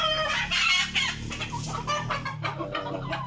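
A large chicken clucks repeatedly and loudly close by, with bursts of rooster-like calls over a low farmyard hum; no talking.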